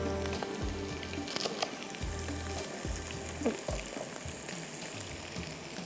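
Ginger, garlic and onion frying with slit green chillies in hot oil, a steady close sizzle with faint stirring and utensil clinks throughout.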